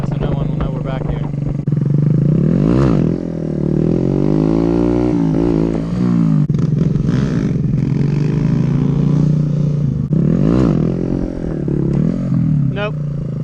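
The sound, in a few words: quiet motorcycles riding behind a building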